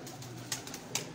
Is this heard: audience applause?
no